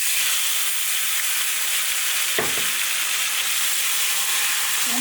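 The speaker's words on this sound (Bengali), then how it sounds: "ভাজা ভাজা হয়ে গেছে, এবার আমি টমেটোটা দিলাম" Tomatoes dropped into hot oil already tempered with cumin, cardamom and cinnamon, giving a loud, steady close-up sizzle with a brief burst where they hit the pan; no one speaks.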